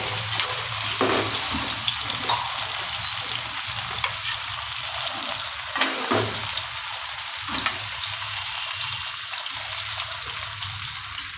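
Drumsticks stuffed with ground chili and salt masala are gently stirred in a hot pan, producing a steady close sizzle with occasional soft scrapes of the spoon.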